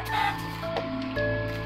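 A Minecraft chicken clucks in short bursts during a survival multiplayer game, close and fairly loud against a steady low game-ambience drone.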